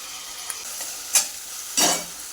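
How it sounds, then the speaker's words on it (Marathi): Tomatoes and ground masala sautéed in a pan for a dry eggplant curry, with a soft continuous sizzle and a few brief scraping stirs, close and fairly quiet, with no talking. "टोमॅटो पण आपण चांगला परतून घेतला बघा"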